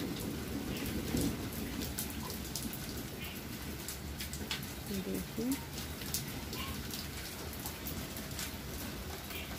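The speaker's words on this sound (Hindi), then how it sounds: "अभी तक देखिए बारिश आ रही है" Steady rain patters down continuously, with scattered drops tapping on a surface nearby and faint distant rumbling underneath.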